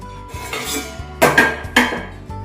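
A metal lid lifted off a cooking pot holding a chhena sweet, with a couple of sharp clanks and scrapes of metal on metal, close and loud, and no voice.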